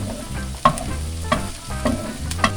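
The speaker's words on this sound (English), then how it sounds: "Once your onions are soft, just push it to the side." Softened onions sizzling in a frying pan as they are pushed aside, a steady close fry with a few distinct scraping clacks of the spatula against the pan, no voices.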